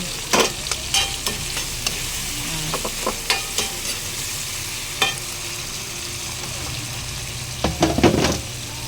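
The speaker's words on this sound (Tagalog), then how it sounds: "Mikos-mikos na natin." Food sizzles steadily in a frying pan as a spatula stirs it with repeated scraping taps, heard close, with a brief burst of louder clatter near the end and no speech.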